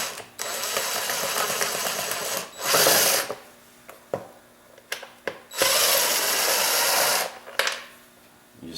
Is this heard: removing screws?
yes